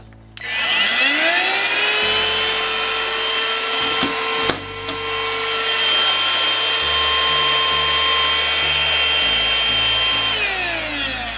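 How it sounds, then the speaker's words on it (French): Easine H55 cordless stick vacuum running with its brush roll rotating, a loud, close, steady motor whine that spins up at the start, shifts pitch a few times as the mode changes, and keeps going throughout. "Et je vais vous montrer la rotation du balai, de la brosse plutôt. Voilà, je vais le mettre en mode boost en même temps, en mode max."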